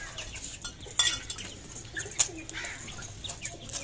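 Chicks chirp in faint, scattered peeps while being fed in a village setting in Karachi. Light clinks of dishes and other household clatter sound around them.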